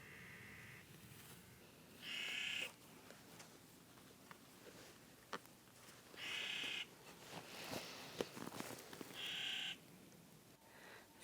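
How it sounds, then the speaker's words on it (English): Faint, wavering loon calls rise out of a quiet evening, several separate cries spaced a few seconds apart at a distance. "The loons are singing."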